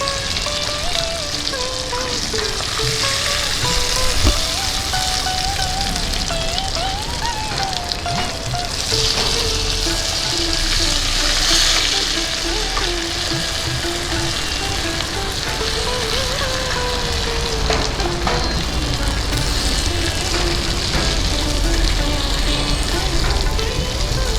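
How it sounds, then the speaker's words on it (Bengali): Pomfret fish frying in hot oil in a Bengali-style kitchen, a loud, continuous crackling sizzle lasting throughout, with a person talking over it. "মাছ ভাজা হয়ে গেছে, এবার তুলে নিচ্ছি।"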